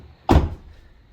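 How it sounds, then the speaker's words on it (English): A Ford F-150 pickup door, 2015–2020 model year, shuts once with a single loud, solid thunk and a brief rattle that fades quickly, heard alone and close. "let me just open and close my door"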